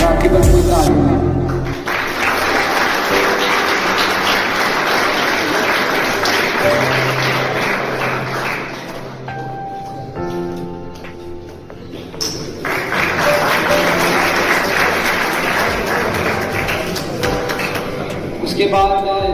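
At a student farewell party, an audience keeps up a dense, continuous clapping for a long stretch while someone speaks over it through the sound system.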